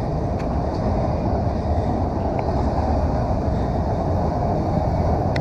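A train rolls past somewhere in Canada, giving a steady, loud rumble with no break. Under the rumble sits a continuous roar, with a few faint higher clanks, and nobody speaks.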